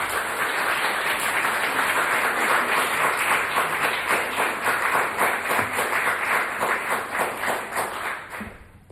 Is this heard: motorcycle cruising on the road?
no